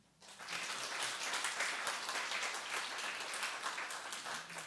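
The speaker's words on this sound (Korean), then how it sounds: "우리 반주자 박수 한번" A church congregation claps for the accompanist after a prayer, dense applause swelling in quickly and holding steady throughout the few seconds.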